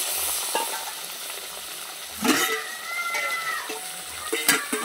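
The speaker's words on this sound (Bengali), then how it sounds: "এবার আমি মশলা ধোয়া জলটা দিয়ে দেবো" Water hits frying masala in a pan: a low sizzle breaks into a louder hissing surge, with scattered clinks and stirring scrapes, close and without speech.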